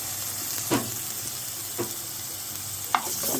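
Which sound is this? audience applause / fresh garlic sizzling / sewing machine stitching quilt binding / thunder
fresh garlic sizzling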